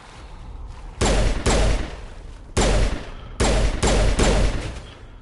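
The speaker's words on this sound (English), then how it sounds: "Wait, did I just throw a grenade?" Loud blasts and bursts of gunfire erupt in Mass Effect combat: several heavy, sharp explosions arrive in uneven clusters, each decaying quickly, with a brief lull between groups.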